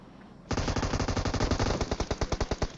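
Automatic gunfire in the PUBG Mobile battle game, a close, loud string of rapid shots that starts suddenly after a quiet moment and keeps a steady rhythm, slowing slightly toward the end.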